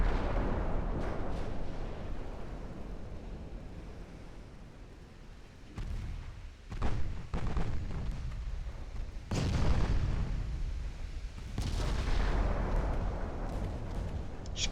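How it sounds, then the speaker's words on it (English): Heavy naval gunfire from eight-inch guns in the warship game Ultimate Admiral: Dreadnoughts, with several loud booming salvos at irregular intervals over a continuous low rumble of battle. "Eight-inch guns are now starting to be able to pen it."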